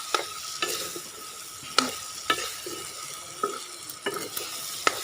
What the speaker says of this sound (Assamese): এতিয়া মই ধুনীয়াকৈ এইখিনি হালধি আৰু নিমখখিনি মাংসৰ লগত ভাজি দিম